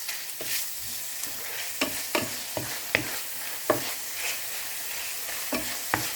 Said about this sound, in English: In a heated pan with cooking oil, put the minced pork. Let it cook for 2 to 3 minutes.